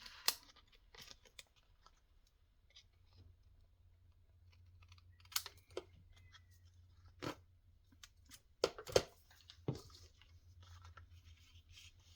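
Scissors snip through paper in a handful of quiet, separate cuts, with crisp clicks and rustles spaced out over an otherwise near-silent background during a craft glueing session.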